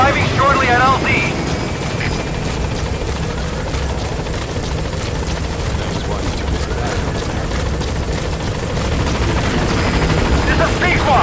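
B-Quad support helicopter arriving at a landing zone in MGSV, rotor thump and turbine whine loud and constant throughout, with radio voices heard over it.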